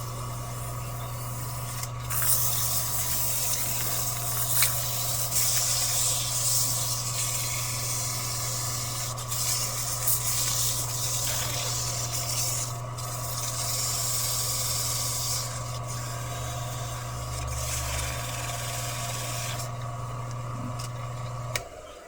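Sanding a maple wood mallet made from a bowling pin in a home garage, a long steady abrasive hiss over a constant low machine hum, with brief pauses and a stop near the end.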